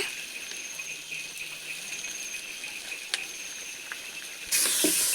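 Ginger garlic paste sizzles in a pan with onions: a steady, fairly faint hiss with light crackles runs throughout, swelling into a louder burst of sizzling near the end.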